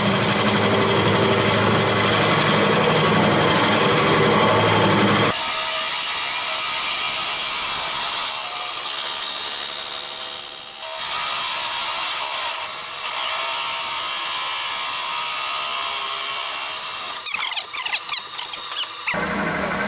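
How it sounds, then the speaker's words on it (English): A loud, steady mechanical whine of a spinning wood lathe with a 1-inch drill bit boring in, shifting pitch partway through, ending with some rattling clicks. "that's a 1-inch drill bit that I'm using"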